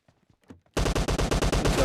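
Rapid automatic gunfire in PUBG Mobile Lite, a loud, steady burst of evenly spaced shots that starts abruptly after a faint quiet stretch and keeps going to the end.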